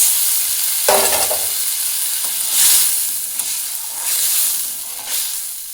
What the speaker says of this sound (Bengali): এবার ভালো করে মশলাটাকে কষিয়ে নিচ্ছি